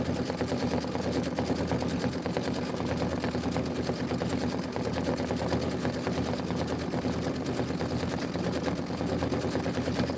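An embroidery sewing machine stitches a tiled home-decor design, a steady rapid mechanical rattle of needle strokes running evenly throughout at moderate volume.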